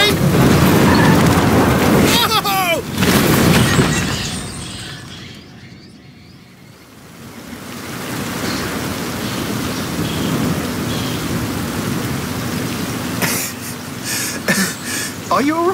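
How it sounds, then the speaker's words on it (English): Steady rain and thunderstorm ambience from the video game Forza Horizon 5, a continuous hiss that dips briefly and then resumes, heard under spoken dialogue. "The storms can be bad, but the ancient peoples of this region knew the value of the rain."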